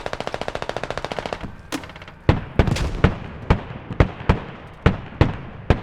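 Explosions in the military shooter game Squad: a rapid string of gunshots gives way to a series of loud, sharp blasts, about eight of them, spaced roughly half a second apart, each with a short rumbling tail.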